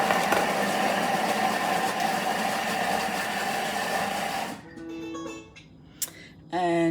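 Kitchen mixer running at speed 5 while making Indian kofta curry, a steady close motor whir with a rattly hum that cuts off partway, followed by quiet handling sounds and brief clatter.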